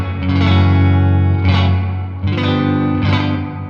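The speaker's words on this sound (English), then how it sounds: "65 voiced reverb, which is like your deluxe reverb from the mid 60s" Electric guitar played through a reverb pedal on its '65 setting, voiced like a mid-1960s Deluxe Reverb amp, with dense spring reverb. Three loud strummed chords ring out in turn, each trailing a thick, springy wash with no talking.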